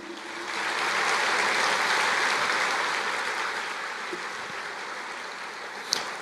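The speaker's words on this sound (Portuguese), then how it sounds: "Aplauda ao Senhor." A church congregation in Brazil applauds during a sermon, with a sustained, even wash of many hands clapping that swells early and then slowly tapers off, ending with a brief sharp knock.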